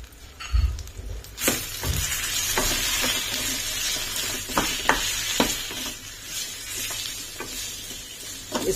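Potatoes frying with cumin, black pepper and salt in a pan while being stirred, giving steady sizzling broken by several sharp scrapes and clinks of the spoon against the pan, close and moderately loud, with no talking.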